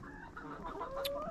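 Hens kept in a backyard flock cluck softly and continuously nearby, overlapping murmurs with a brief higher squawk near the end.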